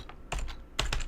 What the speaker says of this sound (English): let me just actually finish typing this out